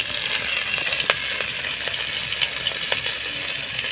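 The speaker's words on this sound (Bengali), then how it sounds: "আর কড়াইয়ের মধ্যে দিয়ে দিব সরষার তেল আর হাফ চামচ দিয়ে দিব গোটা জিরে আর কয়েকটা নিয়েছি কাঁচা লঙ্কা কুচি" Whole cumin and chopped green chillies sizzle steadily in hot mustard oil in a wok, a dense continuous frying hiss with scattered sharp pops and crackles, close and fairly loud, with no voices.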